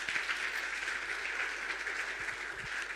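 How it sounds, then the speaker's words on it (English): An audience at a science buskers festival applauds in a steady, fairly faint wash of clapping that continues evenly throughout. "A round of applause for them as they take their seat."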